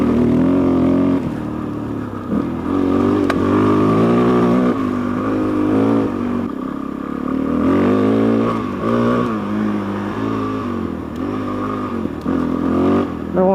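A warmed-up Suzuki DRZ400 motorcycle engine idles with a low, throbbing rumble, its pitch wavering slightly as it runs steadily and loudly for several seconds.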